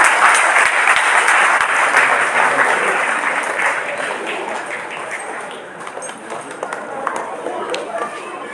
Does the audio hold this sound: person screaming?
no